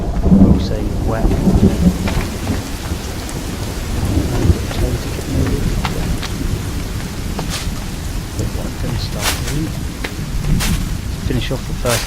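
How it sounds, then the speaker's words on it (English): Steady rain with repeated thunder in The Forest survival game, a dense wash of falling water broken by several sharp cracks and rumbles, loud and continuous throughout with no talking. "Here comes the rain now"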